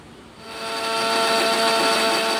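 An electric grinder whirs steadily as it purees green chillies, garlic and raw onion into a paste, the motor spinning up in the first half second and then holding a loud, even whine.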